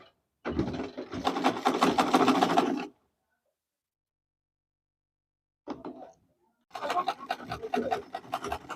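A sewing machine runs a seam on a Queen Anne neckline dress in two loud, close bursts of rapid stitching, the first about two and a half seconds long, then a pause, a short start, and a longer final run.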